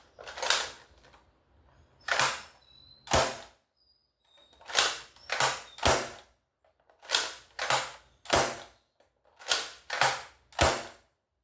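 A Dart Zone Aeon Pro X foam blaster with a plunger is dry fired repeatedly, each shot a sharp, loud snapping pop, grouped in irregular bursts of two or three with short pauses between, close up and with no talking.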